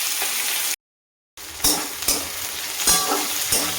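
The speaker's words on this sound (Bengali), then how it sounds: "এই ক্যাপসিকামটাও দিয়ে দিলাম, বড় একটা ক্যাপসিকাম। এটাও একটু অল্প ভাজবো, বেশি ভাজবো না" Onion and a large capsicum fry in a pan with a steady hiss and sizzle, broken by a brief silent gap, then resumed with a few louder stirring scrapes and clinks near the microphone.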